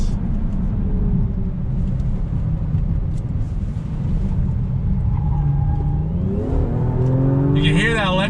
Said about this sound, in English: You can hear that electric supercharger you just wipe out the amount of boost lag.